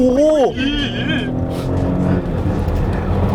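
A 2021 Porsche Cayenne E-Hybrid accelerates with a steady, loud engine drone from inside the cabin, while a voice exclaims excitedly over the opening moments.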